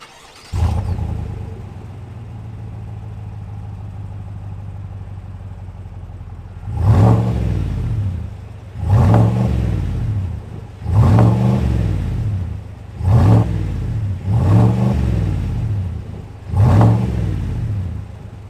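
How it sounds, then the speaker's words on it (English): A 2021 Chevrolet Silverado RST's V8 idles with a low rumble, then is revved hard six times in a steady rhythm, each roar rising and dropping back, loud and close. "Let's hear what this V8 sounds like."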